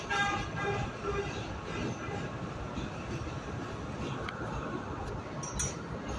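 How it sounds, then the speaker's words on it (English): A New York City subway A train rolls slowly toward Rockaway, with a steady low rumble of wheels on track, faint metallic clinks and squeals, and a continuous close rail drone throughout. "So, the train has to proceed with extra caution. Hence, the slower speed."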